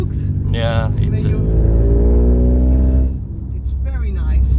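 A 2021 Suzuki Swift sport car drives with a steady engine drone and a rising tone as it accelerates, heard from inside the cabin while someone talks over it throughout.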